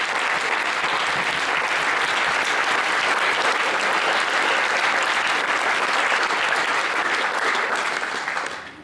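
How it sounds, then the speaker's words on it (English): Wedding guests applaud loudly and steadily for nearly nine seconds, a dense sustained clapping from a large crowd that fades out at the very end. "Can I have a huge round of applause for every single one of those?"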